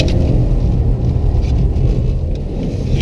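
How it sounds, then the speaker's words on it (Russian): A BMW F30 engine heard from inside while driving on a test drive, a loud steady low rumble and drone with road noise, continuous for a few seconds and no talking. "Двигатель по звуку создает впечатление, что намного быстрее машина, чем она есть на самом деле."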